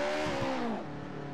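A Porsche sports car engine in the Assetto Corsa video game revs hard with a rising, harmonic whine, then drops to a steady lower hum, close and loud.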